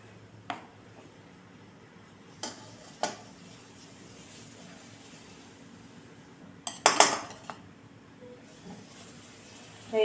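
Small oiled bowls of semolina mango cake batter are set down carefully inside a pot, giving a few scattered clinks and one louder cluster of metal knocks over a quiet background.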